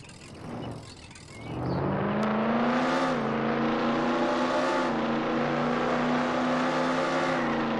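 A car engine in the Roblox game Jailbreak revs up and holds a loud, steady droning whine for several seconds, with no talking over it.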